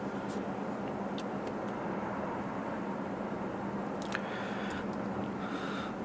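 A 2016 Hyundai Grandeur HG sedan with a 3.0 V6 engine cruises at steady speed, giving a constant low road and engine hum with a few faint clicks and rattles, no talk.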